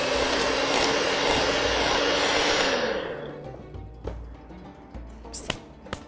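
An electric mixer beats flour into cinnamon biscuit dough with a loud, steady whir for about three seconds. The motor then stops, and quieter bowl clinks and taps follow.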